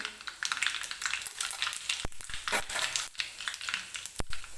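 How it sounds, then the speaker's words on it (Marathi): Mustard seeds and cumin sizzle and pop in hot oil during tempering for an aloo cheese paratha filling. A steady close-up hiss runs throughout, broken by sharp irregular crackles and a few louder snaps, with no talking. "मोहरी व्यवस्थित तडतडू द्यायची आहे."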